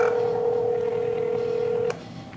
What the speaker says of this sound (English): So we'll just call Verizon's helpline here.